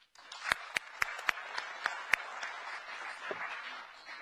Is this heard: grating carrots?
no